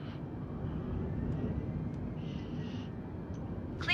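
An Alaska A320neo taking off in Microsoft Flight Simulator, a steady low engine roar and rumble held at moderate level, with a few faint higher tones and a brief bright click at the very end.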